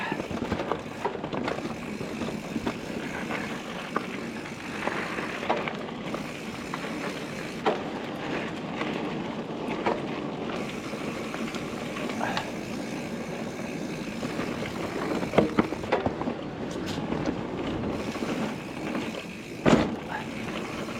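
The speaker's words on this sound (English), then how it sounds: "That wasn't the bike, it is a heavy landing, that drop." Mountain bike with a carbon AMFLOW PL frame lands heavily off a drop on a trail; constant wind and rolling noise run throughout, with a sharp, brief impact thud near the end.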